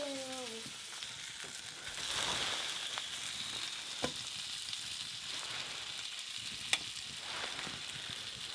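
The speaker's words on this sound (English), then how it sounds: "we have a beef patty, goes first, then a bit of bacon on top, some halloumi cheese" A beef patty, bacon and halloumi cheese fry in a pan outdoors in alpine country, giving a steady, soft sizzle with a few faint clinks of a utensil and no talking.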